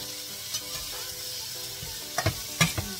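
Seasoned food is tossed in a frying pan with a soft, steady sizzle and a few quick scraping clatters near the end.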